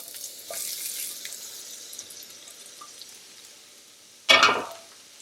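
Mushrooms drop into hot olive oil in a pan, setting off a sudden loud burst of sizzling near the end that fades quickly, after a stretch of faint low kitchen hiss.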